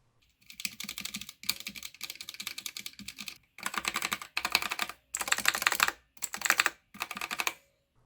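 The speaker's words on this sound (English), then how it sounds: "instead of tactile switches, we now have linear switches, and I think they sound a lot better" Bursts of smooth, rapid key presses on an E-YOOSO K700 mechanical gaming keypad with linear switches, several short typing runs separated by brief pauses, close and clear.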